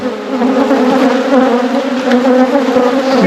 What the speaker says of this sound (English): These bees are going crazy.